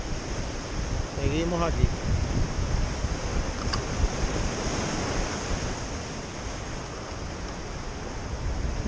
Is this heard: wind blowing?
yes